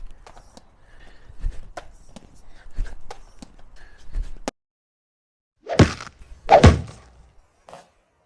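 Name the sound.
lacrosse shots with rubber foam balls from a Powell Craftsman 22 stick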